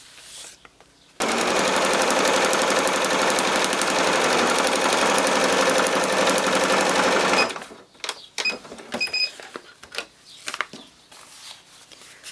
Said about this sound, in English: I am sewing into the seam allowance